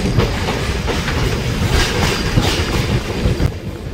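A local passenger train on the Budge Budge–Majerhat–Dum Dum line rolls slowly over a bridge and curves, filling the space with a loud, continuous rumble and rhythmic wheel clatter, heard close from inside the carriage with no talking.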